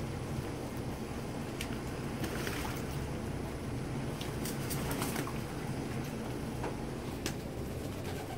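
Pet birds splash in bath water, giving a constant close flutter of watery spatter and rushing noise, with faint chirps and light clicks on top and no talking.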